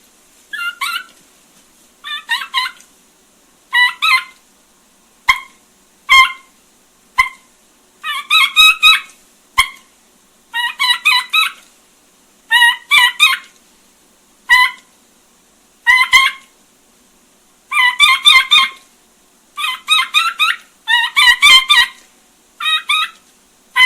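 A turkey caller imitates a lost young turkey's call with a device, sending repeated bursts of high, raspy yelping notes in short separated series, loud and close, with no talking.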